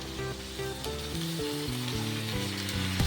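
Drumstick flowers frying with beans and potato in a pan, a steady broadband sizzle with stirring throughout, tonal music running underneath.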